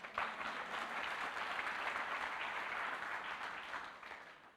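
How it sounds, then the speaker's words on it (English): Church congregation claps hands together during a sermon on fasting and prayer, a sustained, even wash of applause heard at a soft, somewhat distant level. "give the Lord a hand clap"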